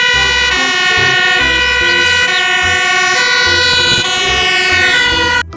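A toy fire truck blares its electronic siren, loud and close, with a repeating wailing two-tone pattern and a pulsing low beat that runs steadily before cutting off at the end.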